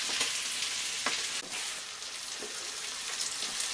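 Vegetables for a vegetable curry sizzle and fry steadily in a hot pan, a dense, even crackle that runs without a break, with a few faint stirring knocks.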